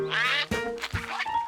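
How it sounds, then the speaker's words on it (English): Cartoon ducks quacking on a river, three or four loud nasal quacks in a row, close by, with faint music underneath. "George had never had ducks swim all around him before."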